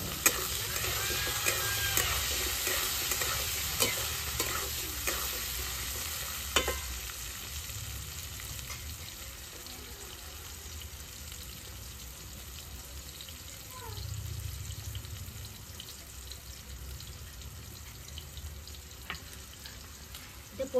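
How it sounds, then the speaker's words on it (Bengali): Potatoes frying with onions in a pan, a steady sizzle with scattered stirring scrapes running through the whole stretch, moderately close, with a brief watery run partway through. "পেঁয়াজের সঙ্গে আলুগুলো একটু ভাজা হয়ে যাবে।"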